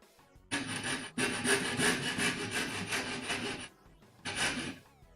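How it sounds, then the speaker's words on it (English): A handsaw cuts through wood for an ax handle, close and loud, two long runs of rapid rasping strokes with a brief pause between and a shorter burst after a gap. "More sawing noises."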